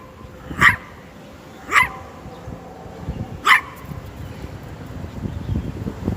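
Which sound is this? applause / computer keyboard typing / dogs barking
dogs barking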